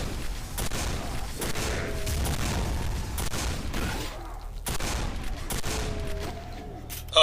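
Gunfire in Quake 4 during a fight with a dual berserker boss: a steady run of loud weapon blasts and bursts fills the stretch, with a few sharper booms standing out and a brief loud hit at the very end.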